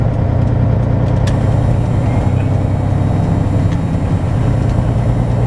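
A flatbed semi truck reverses slowly: a loud, constant low diesel rumble dominates close by, with faint higher clicks and rattles above it and no talking.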